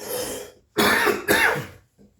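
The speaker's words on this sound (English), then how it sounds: "And I'm just coughing like crazy." Someone nearby with a lingering illness and lost taste and smell coughs three times, a short cough followed by two harsher, louder coughs, then a faint breath.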